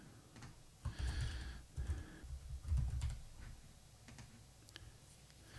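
Rapid, quiet typing on a computer keyboard, with bursts of soft key clicks that come and go against a low room background.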